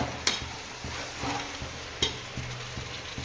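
Vegetable biryani ingredients with beetroot, mint, coriander and curry leaves are stirred in a pan, making soft scraping and a faint sizzle with a couple of sharp utensil knocks, close and quiet, with no talking.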